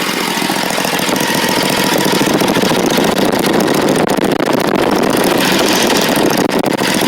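A Hustler Raptor mower engine runs steadily at a loud, close range with a rough, broadband drone, its drive belt turning under the deck.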